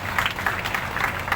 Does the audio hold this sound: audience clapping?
yes